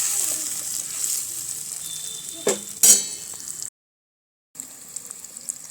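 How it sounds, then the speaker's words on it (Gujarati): Tomato gravy for tamatar sabji sizzling and cooking in a pan, a soft steady hiss with a couple of brief stirring clatters, interrupted by a short silence before the sizzle resumes. "તેમાં આપણે આ ટમેટાની ગ્રેવી ઉમેરી દઈશું અને તેને પણ થોડી વાર માટે થવા દઈશું"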